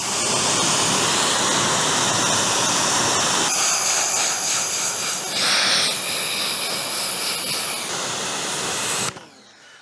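A pressure washer jet blasts a car's convertible fabric soft-top roof with a loud, steady roaring hiss whose tone shifts partway through as the spray moves, then cuts off abruptly near the end.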